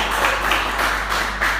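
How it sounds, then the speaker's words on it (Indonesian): A small crowd at a youth and teen church service claps briefly, a short, fairly close burst of mixed applause lasting under two seconds. "Loh, tepuk tangan"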